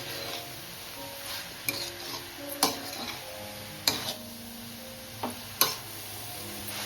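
Ovarna flower leafy greens and fresh grated coconut stir-fried in a pan, a soft steady sizzle broken by several sharp scrapes and clinks of a spatula against the pan at irregular intervals, without talking.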